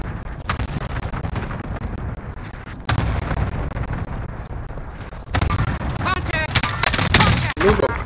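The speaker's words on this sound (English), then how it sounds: "Enemy cluster strike incoming, take cover." An enemy cluster strike in the shooter game Call of Duty Warzone sets off a string of loud, booming explosions, with heavy rumbling blasts and gunfire stacking up over several seconds, some voices mixed in.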